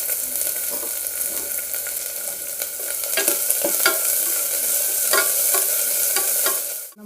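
Chopped onions with garlic and mustard seeds sizzle steadily in a pan as a spoon stirs them with frequent clinks and scrapes, close and fairly loud, ending abruptly.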